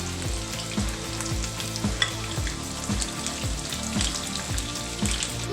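Garlic and green chilies sauté in olive oil for a ghiya tori curry, giving a steady close sizzle and crackle broken by regular scraping stirs, with no talk.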